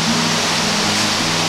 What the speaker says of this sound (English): It's the tallest waterfall in Illinois